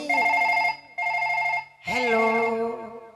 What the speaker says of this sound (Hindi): हमने मम्मी को फोन लगाया